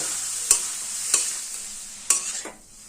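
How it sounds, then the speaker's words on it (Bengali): Grated carrot and onion sizzle softly in a pan while a spatula scrapes and stirs in three or four sharp, separate strokes over a quiet frying hiss. "আর্ধেকটা গাজর দিয়েছি পেঁয়াজের সঙ্গে ভালোভাবে মিশিয়ে নিয়ে"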